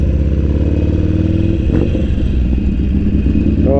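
Motorcycle engine running steadily on a ride after a TPS sensor replacement, a loud, close, continuous rumble with a mechanical clatter and a slight rise in revs near the end, with no voices.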